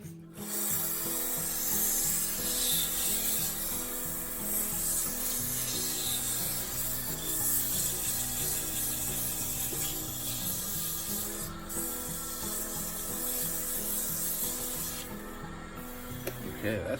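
Resin-stabilized wood is hand sanded with 400 grit sandpaper, giving a steady, close, rhythmic scratching rub that continues with small pauses throughout.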